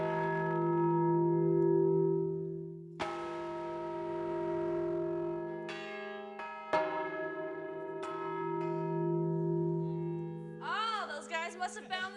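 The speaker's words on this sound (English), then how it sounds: "Oh, those guys must have found the bells." Church bells in a bell tower struck hard with hammers, a few loud clanging strikes with long ringing, overlapping decays, close up, and a voice briefly near the end.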